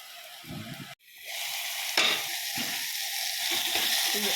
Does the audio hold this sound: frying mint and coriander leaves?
yes